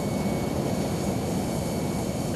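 Roaring jet engines of a C-17A Globemaster III transport aircraft, a steady broadband rumble with a faint whine, loud and continuous throughout with no voices.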